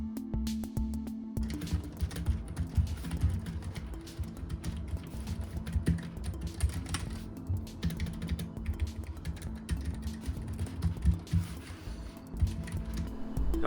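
Keycaps being pressed back onto a Keychron K3 mechanical keyboard, a dense run of close, continuous clicks and clacks with uneven rhythm and no talking.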